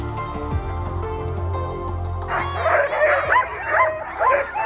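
A dog in Norway yips and whimpers in short, high, rhythmic bursts, loud and close, over a steady low hum from a moving Hyundai Ioniq 5 electric car.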